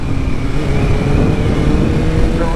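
A fully modified superbike with an electronic throttle and quick shifter accelerating hard, its engine a loud, continuous close-up roar with rising pitch and wind rush.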